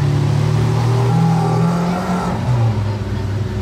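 A Lamborghini Ultimae Roadster with its exhaust valves apparently closed drives past during a carspotting outing, its engine note steady and fairly loud, rising slightly and then easing off as it goes by, with no talk over it.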